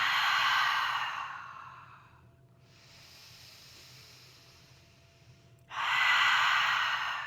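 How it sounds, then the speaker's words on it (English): A long, deep breath let out through the mouth during a prenatal mobility session, a breathy hissing exhale, then a quiet pause and a second strong exhale starting near the end, close and alone without talk. "Exhale through your mouth."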